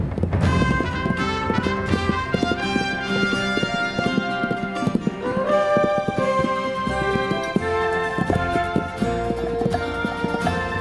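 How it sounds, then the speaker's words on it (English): Wild mustang hooves thud and clop on the ground of the cool green heights of southern Montana, a busy run of hoofbeats buried under loud, continuous melodic music. "wild horses converge on the cool green heights"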